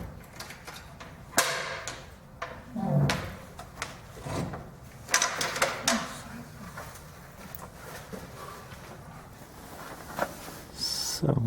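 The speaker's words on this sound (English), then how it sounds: "let's get this door off." Metal clunks, knocks and rattles come from a cab door being worked off a Zetor 5711 tractor: scattered sharp hits and scrapes at close range, with no talking.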